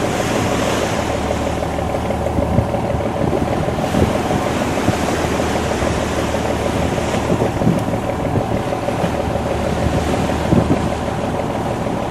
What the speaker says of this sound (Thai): คลื่นครับ ดู คลื่น ดู คลื่น